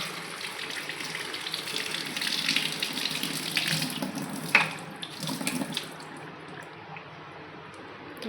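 Running water pours from a tap over a money plant cutting being rinsed in a sink, a steady splashing gush with a sharper splash midway, no voices.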